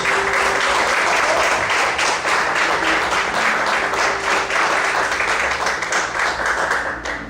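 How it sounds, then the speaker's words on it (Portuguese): A church congregation applauds during an evening service, steady dense clapping from many hands filling the room throughout, fairly loud and continuous with only faint background voices. "Quantos podem aplaudir o Senhor nessa noite?"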